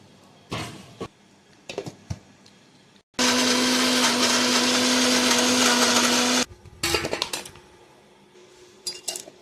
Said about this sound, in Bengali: আবার মিক্সিতে দেবো। এবারে দেব অল্প একটু জল।